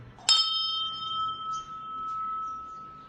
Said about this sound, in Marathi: हे घंटी आहे